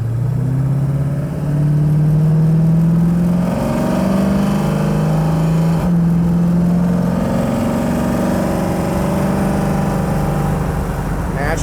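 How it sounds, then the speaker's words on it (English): 1967 Mustang Fastback resto-mod engine pulling hard while merging onto an interstate, a loud continuous drone rising in pitch through the gears, heard from inside the car. "Naturally, we've got way more power than we need, so we're quickly up to highway speed."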